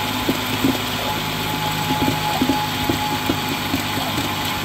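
A 2012-2023 Dodge Charger with an 8-speed transmission idling in a garage during a transmission fluid and filter change, a steady low hum with faint repeated clicks and knocks around it.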